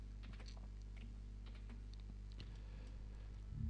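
Computer keyboard typing, a run of light, quick key clicks close by over a steady low hum, no voices.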